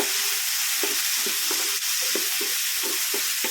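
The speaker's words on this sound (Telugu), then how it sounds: "ఇప్పుడు పచ్చిమిర్చీలు, ఆనియన్ ముక్కలు వేసుకోవాలి. ఇవి కూడా మంచిగా కలుపుకోవాలండి." Green chilies and onion pieces fry in a pan for a Telangana-style amaranth leaf curry, a constant hiss of sizzling oil broken by a quick, regular scrape of stirring, with no talk.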